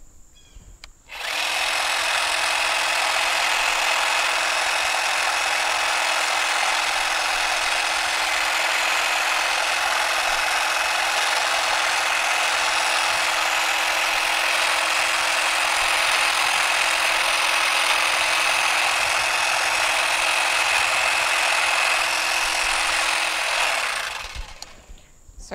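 A hedge trimmer runs steadily for about 23 seconds while pruning and shaping garden shrubs, a loud, continuous buzzing motor whine that starts abruptly and cuts off near the end, with no talking.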